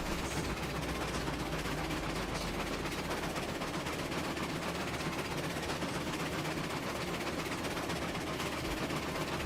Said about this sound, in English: I think that the chuffs are just a little bit off.